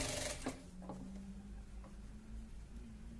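A sewing machine stitches a fabric face mask, a quiet steady whir of needle strokes following a couple of brief clicks at the start.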